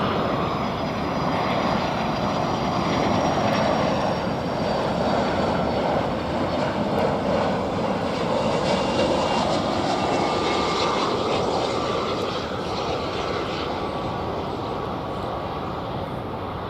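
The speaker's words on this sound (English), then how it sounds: "We're getting another UPS flight in." UPS Boeing 757 jet arriving at DFW airport, a loud, sustained engine roar with a whining upper tone that stays strong and steady for the whole stretch, no talking.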